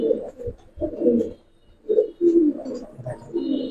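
Two pigeons, including silver khaki breeds, coo repeatedly in low throaty phrases, close by, with short pauses between bursts.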